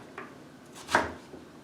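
A knife slicing through raw potatoes on a cutting board for a wartime vegetable soup, a couple of quiet single cuts with one sharper chop near the middle, faint and isolated.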